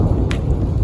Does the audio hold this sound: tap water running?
no